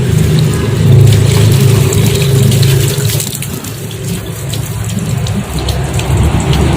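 Water sprayed over a Hyundai Atoz to imitate rain while checking for leaks, a steady hissing wash of spray drumming on the car body, close and continuous with a low rumble beneath.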